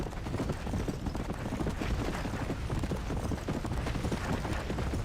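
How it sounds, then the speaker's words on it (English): Horse hooves pound rapidly in a steady galloping rhythm in Red Dead Redemption: Undead Nightmare, a western zombie video game, sounding dense and continuous at moderate volume with faint game noise underneath. "that horse's stamina just does not go down"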